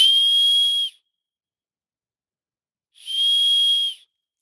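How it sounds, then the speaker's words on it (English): Two loud, sustained high whistles by a person outdoors in a mountain state park, about two seconds apart, each held for nearly a second, with silence between them. "Let me try another whistle"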